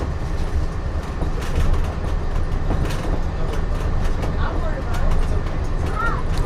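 Ride aboard the Walt Disney World monorail, a steady low rumbling hum of the moving train with faint clicks and squeaks, continuous throughout.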